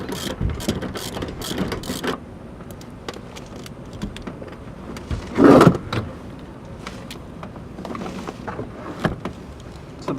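Ratchet wrench working on 14 mm bolts holding a BRIDE Zeta II bucket seat and rail in a Nissan S13 drift car, with short bursts of clicking spread through the clip and a louder mechanical rattle midway.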